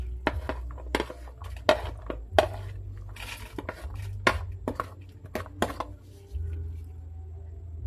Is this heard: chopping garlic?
yes